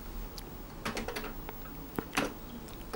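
Keys clatter on a Commodore computer keyboard used with a 1530 Datassette tape unit, a run of light, close keystrokes in quick irregular bursts across a few seconds, with no voice.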